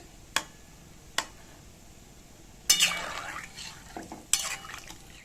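Water poured into potatoes frying in a pan for a Bengali fish curry hits the hot oil in short sizzling bursts, mixed with a few sharp clinks of a utensil against the pan, close and moderately loud.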